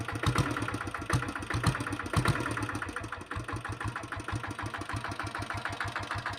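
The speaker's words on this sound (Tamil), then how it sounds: "வண்டியில் அப்படியே உங்களுக்கு ரைஸ் பண்ணி காமிக்கிறேன் பாருங்கள்." Company-fitted diesel Bullet motorcycle with self start, its engine thumping in a steady, loud, close beat that swells as it is revved, with no talk over it.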